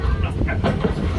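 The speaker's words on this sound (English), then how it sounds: "Oh, Peter, that's not a snake. It's a train" Walt Disney World Railway train at Magic Kingdom running with a continuous low rumble and some mechanical rattling, loud and close, with a voice speaking over it.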